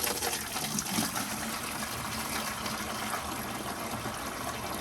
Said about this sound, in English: There was a little bit of splashing when it first started coming out, just that force of water hitting the bottom of the bucket